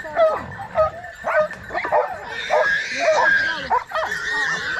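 Dogs bark and yip in short repeated bursts nearby during a hunt in the rain, mixed with whimpering, while people talk and a steady hiss runs underneath.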